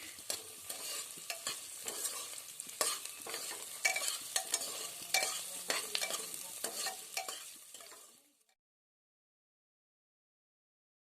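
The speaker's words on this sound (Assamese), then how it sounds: "অলপমান ভাজি ল'ম আদা নহৰুৰ কেঁচা গোন্ধ নোযোৱালৈ" Crushed ginger and garlic fry in a pan for a banana stem curry, giving a close, crackling sizzle with frequent stirring scrapes before the sound cuts off into silence.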